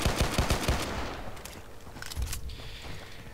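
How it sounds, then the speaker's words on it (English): Pistol shots from a Battlefield-style Karkand combat video game come in a fast burst of four sharp reports, followed by a couple of scattered distant shots and faint game ambience. "one of the best pistols in the game."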